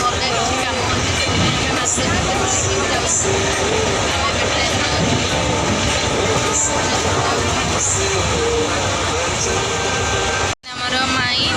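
Inside a moving train in Kolkata, a continuous loud rumble and rattle of the carriage runs throughout, mixed with the babble of a crowd of passengers talking and a brief drop in noise near the end.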